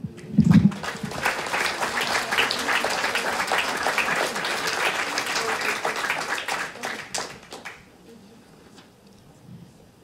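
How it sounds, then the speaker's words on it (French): An audience at a general assembly applauds itself, with dense, sustained clapping for about seven seconds. The clapping then fades to quiet room noise with a brief voice. "Chapeau, vous pouvez vous applaudir."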